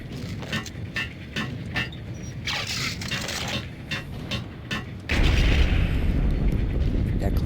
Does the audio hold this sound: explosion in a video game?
yes